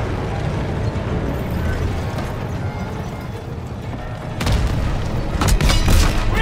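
Tank cannon blasts boom out in a World War II combat game, heavy low explosions landing in bursts toward the end over a rumbling battle backdrop.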